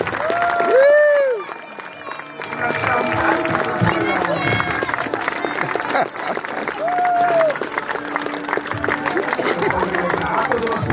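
Audience applause and cheering at a tournament at Červený Kameň castle, a loud crowd clapping steadily throughout, with an announcer's amplified voice speaking over it at times.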